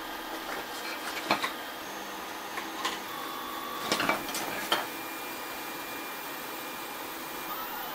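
A CNC spindle runs with a steady high whine while plunging and tracing the outline of a pocket, with several sharp clicks and rattles over the continuous drone.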